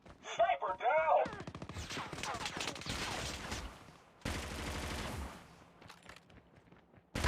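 Automatic weapon fire from a PDW-57 in Call of Duty Mobile: bursts of rapid shots crackling in quick succession, with louder sustained volleys midway, mixed with game effects and brief voice callouts.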